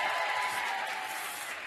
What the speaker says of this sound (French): Arrêtez les applauses.